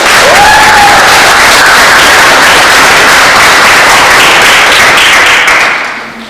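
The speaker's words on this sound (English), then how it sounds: "can we just give a round of applause to these wonderful artists?" Gallery audience at an artist talk gives a round of applause for the artists, a very loud, dense wash of close clapping with a brief cheer near the start, sustained evenly before fading out at the end.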